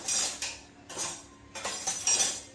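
A metal spoon clinks against a pot or bowl while Maggi noodles are being made, giving three short bursts of bright metallic tapping and scraping, fairly close, with no talking.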